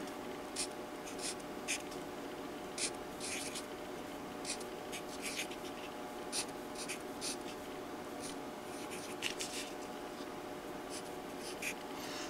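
Pen or marker writing on a stacked paper quilling form, a soft scratchy rub with short repeated strokes, close and quiet over a faint steady hum, no talking.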